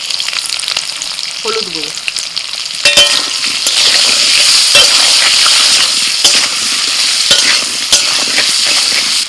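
Potatoes fry in a pan for a Bengali village-style jackfruit dish, with a steady close sizzle throughout and occasional clangs and stirring scrapes. A brief voice speaks near the start.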